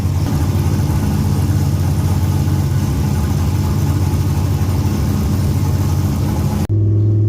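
A Pontiac Firebird engine with a new, unfinished exhaust runs loud and close, a steady droning idle rumble that holds for several seconds before cutting off abruptly near the end.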